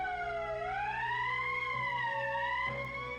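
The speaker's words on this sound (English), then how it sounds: "That's the emergency siren." An emergency siren blares in the Valkyria Chronicles video game, a loud steady wail that rises and falls slowly, sounding alone without talk.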